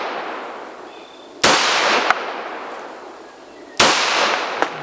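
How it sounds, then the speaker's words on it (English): Two sharp, loud reports from a Colt Government Model 1911 XSE pistol fired outdoors at a bottle on the ground, spaced about two seconds apart, each with a brief echoing tail and no talking. "I'll try to shoot it again."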